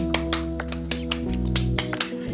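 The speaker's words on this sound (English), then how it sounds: "I just clapped in a circle." A single person clapping hands while moving in a circle, a series of sharp, close, evenly spaced claps over a steady hum, with no talking.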